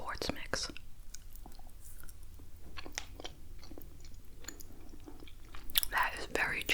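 Close, moist chewing and smacking on chewy British candy, steady mouth sounds with occasional crunchy bites, with soft whispered talk alongside.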